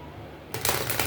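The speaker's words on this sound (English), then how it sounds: "Let me shuffle these." Tarot cards being shuffled, a short burst of close, crisp riffling and flapping that starts abruptly after a quiet moment.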